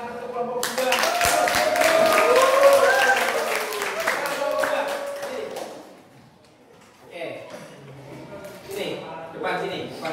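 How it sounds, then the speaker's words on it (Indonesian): A class of students claps for a presenting group in a classroom. The first few seconds are busy and loud, then the clapping dies away. Softer scattered taps and shuffling follow, with voices talking under it. "tepuk tangan untuk kelompok 2"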